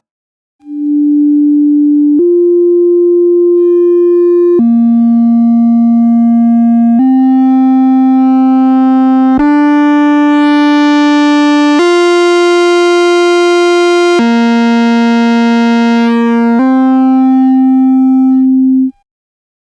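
A steady synthesizer tone through a Twin Drive Eurorack distortion module steps through a sequence of held notes, growing brighter and more distorted with harsh upper overtones, then easing back, loud and continuous.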